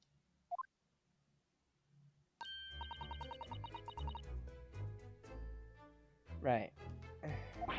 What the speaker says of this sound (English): Yes, it's a bell cord.